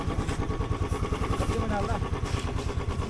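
A Royal Enfield Himalayan motorcycle rides slowly on snow, its engine giving a steady, close, rhythmic thump throughout.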